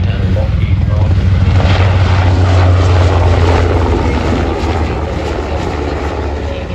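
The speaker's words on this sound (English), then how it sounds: "It's a modified Black Hawk helicopter, effectively." A Sikorsky Seahawk naval helicopter, a modified Black Hawk, performing a flying display at the Avalon International Airshow, its rotor and turbine roar loud and steady throughout, with a voice talking over it.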